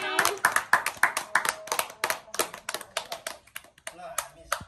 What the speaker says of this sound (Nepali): ताली ताली ताली ताली